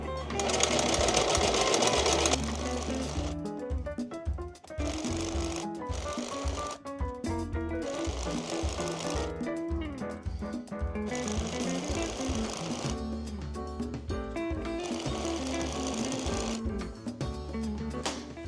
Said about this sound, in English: Going to stitch the top band down, leaving an opening so that I have a spot to insert the elastic